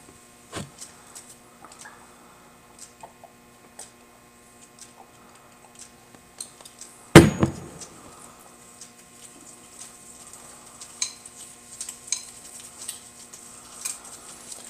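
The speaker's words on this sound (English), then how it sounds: "the more you stir the oil into it, the thinner it becomes" Oil is stirred into an ash paste with soft, sparse ticks and scrapes, then one sharper clunk midway, followed by light intermittent tapping.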